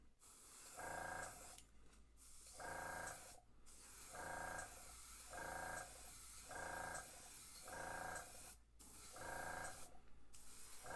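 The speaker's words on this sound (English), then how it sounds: "all I'm going to do is just spray it on the back, down the sides" Short hissing spray-paint bursts repeat in a steady rhythm, about eight of them, each lasting roughly a second, painting a fishing lure. They are close and fairly quiet.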